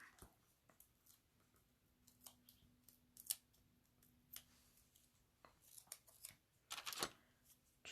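Scissors trimming cardstock pieces for a stamped and die-cut paper craft, producing a series of short, quiet snips spaced irregularly, with a denser cluster of crisp cuts near the end and a faint steady hum underneath.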